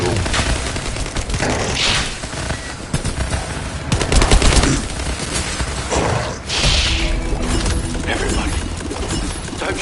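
Rapid automatic gunfire rattles through a firefight in The First Descendant, sustained bursts of shots with booms and mechanical clatter, loud and dense, while voices shout over the shooting.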